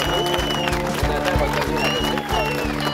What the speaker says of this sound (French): On applaudit monsieur, madame.